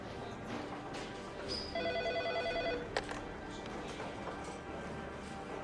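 Telephone ringing in the video game Heavy Rain, a single trilling ring burst of about a second, moderately loud over quiet ambient background with a sharp click afterward.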